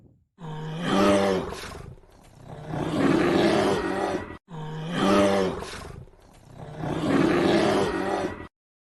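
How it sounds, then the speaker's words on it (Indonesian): A tiger-like roar sound effect gives two long, loud, growling roars separated by a short pause, each swelling and fading away. "Suara bendi dari Kyai Macan seperti suara harimau."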